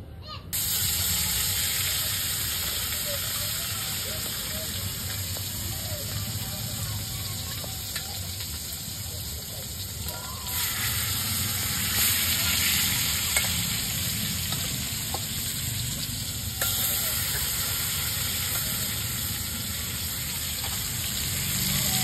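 Fish frying in hot oil in a kadai gives a close, continuous sizzle and bubbling that swells at moments, steady throughout.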